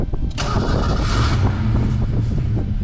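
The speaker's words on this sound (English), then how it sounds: "Fires right up again." A 1990 Ford Mustang GT 5.0 cranks briefly and fires right up, settling into a loud, close, rumbling idle with a throaty low-end throb.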